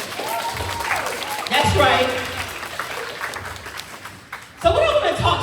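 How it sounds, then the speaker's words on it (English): An audience applauds at a teen girls summit in Orangeburg, South Carolina, a lively burst of clapping that swells and fades while a voice speaks over it. "I want you to give yourself a round of applause."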